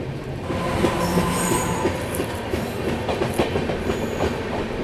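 Swatantrata Senani superfast train (12561) running at high speed toward New Delhi, with steady loud rail roar, rapid clickety-clack of wheels over joints and occasional squealing from the carriage.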